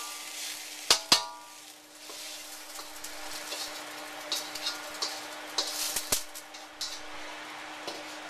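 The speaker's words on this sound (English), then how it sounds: "I stir fry the veggies and the sauce" Vegetables and sauce stir-fried in a hot wok for Cantonese chow mein give a soft steady sizzle, broken by a few sharp metallic clatters of the spatula against the pan, with no talking.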